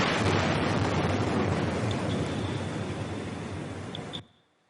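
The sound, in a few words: seismic survey air gun blasts underwater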